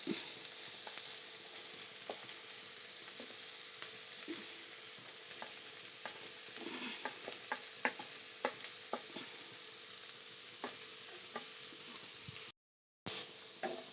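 Vegetables sauté in a pan for a kids' tiffin box recipe: a steady soft sizzle runs throughout, broken by frequent scraping and tapping stirs and one brief dropout near the end.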